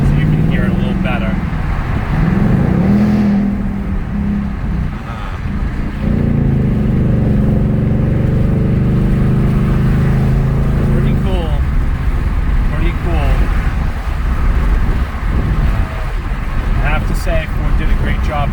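A Ford Mustang GT engine running in track mode while driving in light traffic, a steady low rumble with a swell partway through, heard under someone talking.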